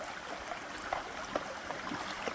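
River water trickles and runs off the riffles of a drop-riffle sluice box as it is lifted out, a close, continuous splashy wash with small irregular drips for a couple of seconds.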